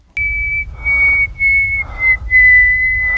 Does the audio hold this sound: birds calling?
no